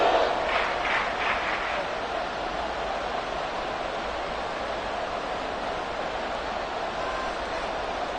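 A stadium crowd roars continuously at a San Francisco 49ers football game late in the fourth quarter, a dense, steady wash of noise throughout.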